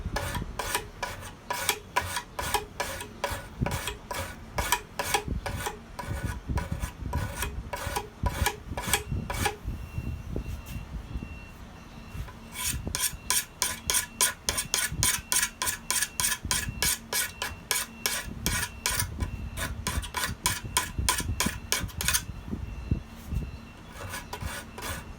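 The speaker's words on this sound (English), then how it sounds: "I'm just using this file in the finishing sort of way." A metal file rasps across a piece of wood held in a simple wood and staple vise, in fast rhythmic strokes that come in long runs with a short pause midway.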